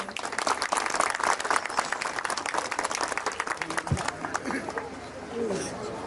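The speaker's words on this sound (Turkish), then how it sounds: "Şimdi konuşmalarını yapmak üzere Mezitli Belediye Başkanımız Sayın Neşet Taryan'ı alkışlarla huzurunuza davet ediyorum." A crowd at a civic event in Mezitli applauds to welcome the mayor, lively sustained clapping with some chatter underneath that eases off slightly near the end.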